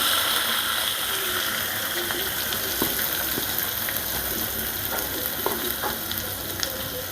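Chopped onions hit hot oil in a pan for Tamil egg curry, setting off a steady, close sizzle and fry with faint stirring scrapes and a few soft clicks throughout.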